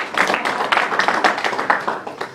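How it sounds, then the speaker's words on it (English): Applause at a basketball club Christmas dinner, with close, sharp individual claps from a small room of guests forming an uneven, lively patter that stays loud throughout. "So those people deserve a round of applause."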